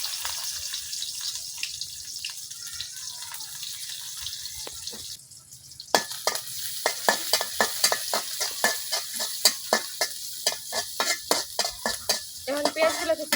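Chopped onions sizzle steadily in hot oil in a kadai (wok) while being stirred, with a brief lull midway, then repeated rhythmic scraping strokes of the spatula cutting through the continuous close, hissing fry.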